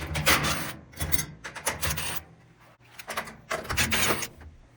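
Screws being backed out of a Whirlpool washing machine's top control panel, giving bursts of scraping, rasping tool noise separated by short pauses, close up with no talking.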